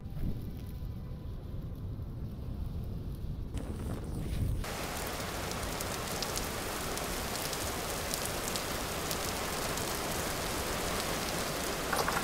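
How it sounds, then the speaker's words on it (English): Steady rain hisses down in the survival game Vintage Story, a dense continuous wash that swells louder partway through and stays constant with no talk. "It is hissing rain out there."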